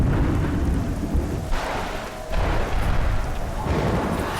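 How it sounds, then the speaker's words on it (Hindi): Rain and thunder in a scene from a Hindi-dubbed film, a steady broadband wash of rainfall with low rumbling swells rolling through, fairly loud and continuous with no talk over it. "अरे बारिश आ रही है, चलो अंदर बारिश आ गई।"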